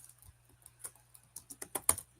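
Several keystrokes on a computer keyboard entering a team name, quiet and close, building into a quicker run of clicks toward the end with a low steady hum beneath and no talking.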